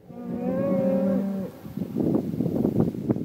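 Registered Black Angus cattle on a pasture in Forest County, Pennsylvania, give one long, loud, sustained moo, followed by rustling and chewing sounds nearby.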